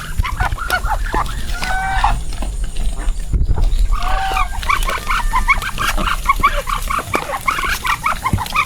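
A busy duck farmyard in North Kalimantan full of birds, with constant overlapping clucks and quacking calls close by, loud and continuous.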